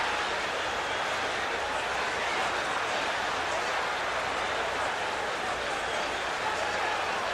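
Boxing arena crowd at a Leonard versus Hearns welterweight title fight roaring steadily and loudly for the whole stretch after a landed combination, a dense wash of cheering with faint voices mixed in.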